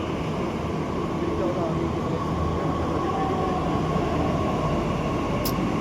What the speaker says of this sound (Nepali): यो हो दिल्ली मेट्रो।